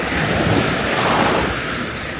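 Waves wash onto the beach at Sunny Beach, Bulgaria, as a loud, continuous surf roar mixed with wind.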